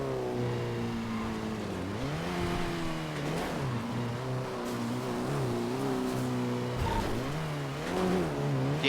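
A black Mitsubishi Evo driving hard, engine revving up and down through repeated swells with tires squealing in between, loud and close, with no talking.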